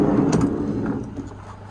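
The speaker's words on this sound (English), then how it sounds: "let's pull this door open." Sliding side door of a 2008 Renault Master minibus pulled open, a single rumbling roll with a faint clunk, close and fading off, without speech.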